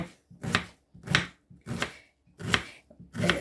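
Knife finely chopping vegetables such as pepper, carrot or onion on a board, a rhythmic run of quick cutting taps in five bursts with short pauses between them, close and crisp.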